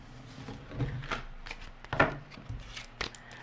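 Tarot cards being shuffled by hand in a series of papery riffles and soft slaps, with several distinct bursts and pauses between them, close and clear with no talking.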